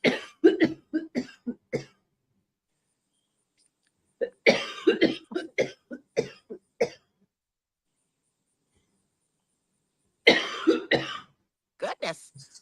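A person coughs in repeated harsh fits, each a quick cluster of several close, loud coughs separated by long silences, with throat clearing mixed in.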